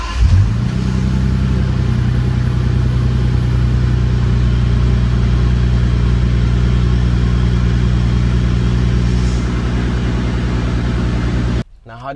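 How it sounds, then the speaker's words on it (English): A Bentley Continental Flying Spur engine cold-starts and settles into a loud, deep, steady idle close by, humming evenly for several seconds before cutting off abruptly near the end. "Now, how did you like that cold start?"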